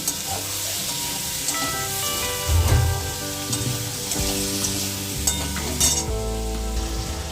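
Spices with salt and sugar sautéed for khichuri, a steady close sizzle of frying with scraping stirring strokes throughout, a few louder clinks of the spoon against the pan.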